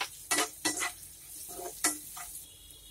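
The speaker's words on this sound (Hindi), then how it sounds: "इसे मिलाते हुए इसे भून लें" Spices fry in hot oil with two pinches of turmeric and salt for Punjabi kadhi pakoda, stirred by a spoon in several loud close scraping strokes over a soft continuous sizzle.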